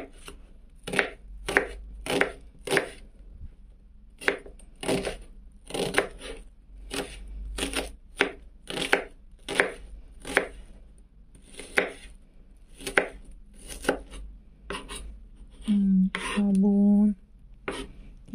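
An onion is chopped with a knife on a board in a home kitchen, making crisp, evenly spaced thuds in bursts. A short scraping sound follows near the end, and nobody speaks.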